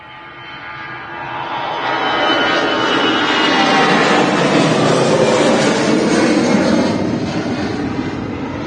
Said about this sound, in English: So EasyJet A380 is off to Paris.